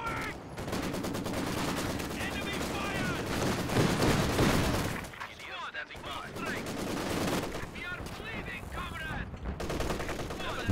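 MG34 machine gun fire in Company of Heroes 2, sustained rattling bursts of automatic fire mixed with other battle gunfire and booms, loud and continuous with a short lull midway, and a commentator talking over it.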